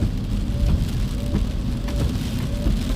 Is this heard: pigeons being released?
no